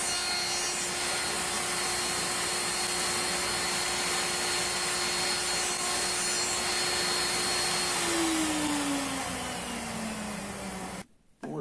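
A lathe or cordless drill spins a small part for sanding in a small-parts roundover job, giving a steady, close motor whine with a faint rubbing hiss. The motor then winds down in pitch and cuts out near the end. No one speaks.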